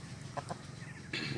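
A young tongueless chicken, six to seven months old, giving a few soft close clucks, followed by a brief burst of louder noise.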